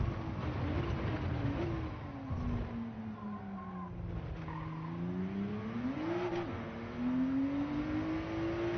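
A racing car engine in Gran Turismo 7 revs and accelerates through the gears during a time trial, its steady tone sweeping up and down continuously, with faint tire noise under it.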